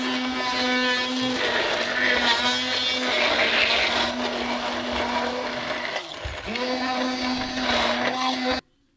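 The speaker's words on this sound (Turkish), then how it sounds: "Evet blender'a verdik arkadaşlar" A blender whirs loudly and steadily for several seconds, its motor droning with a high buzzing whine before cutting off abruptly at the end.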